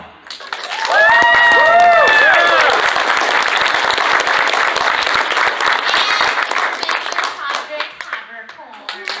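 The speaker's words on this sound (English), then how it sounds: "Ladies and gentlemen, please give a round of applause for Monica Rial." Audience applause and clapping at a comic con panel, a loud dense burst of hands rising quickly and sustained, with whoops and a voice over the start, then slowly thinning.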